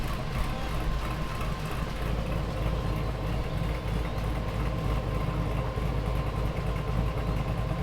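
A Ford Raptor pickup, just pulled from quicksand, idles after being cranked, its engine a steady low rumble close by with no break in the drone.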